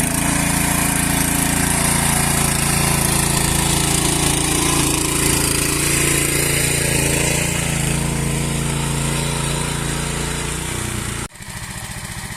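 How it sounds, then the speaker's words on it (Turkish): A motorized garden tiller runs at steady loud throttle close by while working the soil, a continuous buzzing engine drone that drops and changes abruptly in the last second. "Çapa yaparken Adem Usta tam 4 kat geçti bu tarafa."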